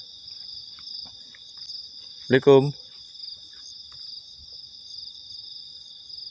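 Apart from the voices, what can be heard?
crickets chirping at night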